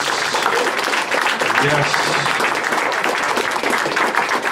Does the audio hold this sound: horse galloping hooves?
no